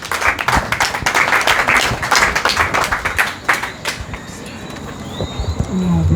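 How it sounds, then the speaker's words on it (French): Audience applause at an evening debate, a sustained patter of clapping from a room full of people that thins out toward the end, with a few birdlike whistles and faint background noise. "Un applaudissement à Roselyne, s'il vous plaît."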